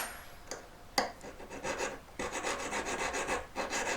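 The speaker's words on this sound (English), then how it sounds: "Filing down to about almost 3/4 with this one" A metal file rasps against a jewelry ring mount being worked down, a close run of steady dry scraping strokes that settles into a continuous filing rhythm after a couple of short taps, with no talk.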